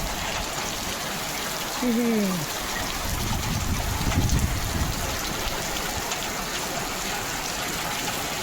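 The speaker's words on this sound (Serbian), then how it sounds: "Vetar, kiša, grad." Storm in Kruševac with wind, hail and rain: a constant loud hiss of pouring drops, briefly swelling, with a short voice cutting through near the start.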